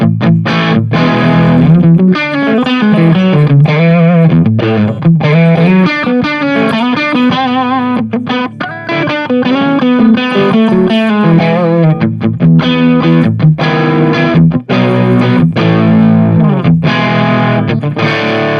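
Electric guitar played through a Tone King Royalist amp on its 1970 era setting, a loud, continuous run of punchy, driven chords and notes with no talking.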